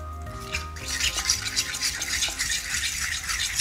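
Creme fraiche being stirred into a pan of scrambled eggs, with a steady scraping, swishing utensil sound close up, continuous over a faint low hum.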